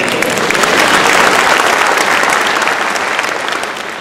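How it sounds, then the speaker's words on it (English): Audience applause at a live show, a dense, loud, steady clapping from a full crowd that eases slightly toward the end. "Thank you for applauding."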